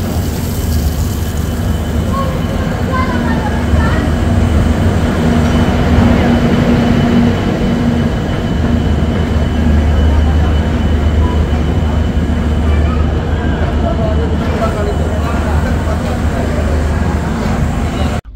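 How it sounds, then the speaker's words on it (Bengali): Aboard the Sairang–Kolkata Express leaving Kamakhya Junction toward Goalpara Town, a steady loud rumble of the running train fills the carriage, constant low roar with faint rattling throughout. "ট্রেন কিন্তু কামাখ্যা ছেড়ে পরবর্তী হল্ট গোয়ালপাড়া টাউনের দিকে যাচ্ছে"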